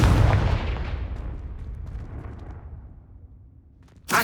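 Confringo blast spell in the Hogwarts Legacy video game: a loud booming explosion at the start that rumbles and slowly decays, followed near the end by a second sharp burst.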